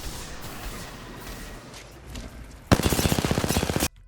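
Automatic gunfire in the video game Apex Legends, a quiet stretch and then one loud burst of rapid, evenly spaced shots lasting about a second that stops sharply.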